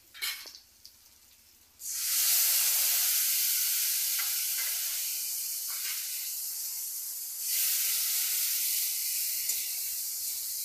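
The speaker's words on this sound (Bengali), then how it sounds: "এবার এই ভিজিয়ে রাখা মশলাটা আমি দিয়ে দিচ্ছি।" Soaked spice paste dropped into a hot pan with dried mango pieces, bursting into a loud, steady sizzling hiss after a few light clinks, close and continuous with no talk.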